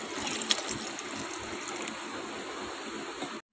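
Water is poured into a mixer jar of blended milk and butter for homemade butter, a steady trickling gush that runs continuously and close by, then cuts off abruptly at the end.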